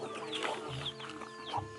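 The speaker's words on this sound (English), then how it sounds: "Should we just look at the chicken?" A chicken clucks repeatedly in short, uneven bursts close by, with a steady background hum behind the calls.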